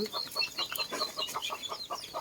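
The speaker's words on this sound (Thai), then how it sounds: "เอาเบิ่งไก่กินข้าวน้ำกันทานผู้ชม" Village chickens raised on a Lao family farm cluck busily while eating rice and drinking water, a close cluster of short overlapping clucks and chirps at low volume with no clear talking.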